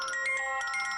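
A phone ringtone plays alone, a bright repeating electronic melody with steady tonal pulses, loud and close.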